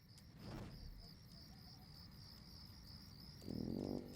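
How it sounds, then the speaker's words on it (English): Faint, high crickets chirp in a steady repeating pulse, with soft low rustling and a brief murmur underneath. "all you could hear were the crickets"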